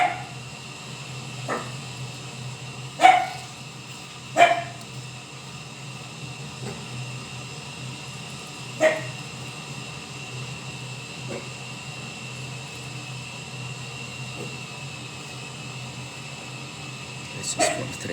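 A dog barks at fireworks: a few scattered, fairly distant barks or pops break through a quiet, steady background hiss, spaced irregularly with long gaps between them.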